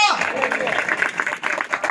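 A church congregation claps loudly during a Urdu-language sermon on peace and holiness, a dense, steady patter of many hands with voices mixed in over the clapping.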